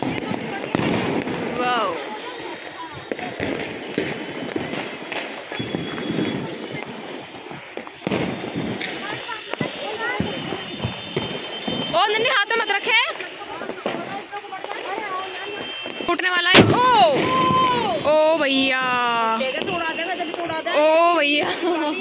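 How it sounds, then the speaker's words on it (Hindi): Diwali firecrackers burst all around in a festive neighborhood, a dense, continuous crackle of pops and bangs, with whistling and squealing rockets later on and people talking throughout. "और अब देखो कितने पटाखे फूट रहे हैं यहाँ पे"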